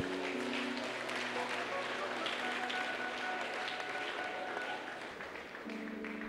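Congregation clapping during a Sunday church service, a dense steady wash of hands filling the room, with sustained tones from music or singing running underneath and voices mixed in throughout.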